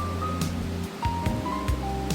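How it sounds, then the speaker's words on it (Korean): Seryeom Falls on Chiaksan mountain in Korea gives off a faint, continuous rush of falling water. The low background wash carries a few soft, scattered sounds from people nearby. "여기가 이제 세렴폭포인데요."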